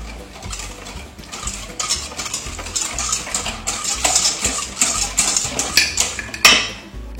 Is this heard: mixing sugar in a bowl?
yes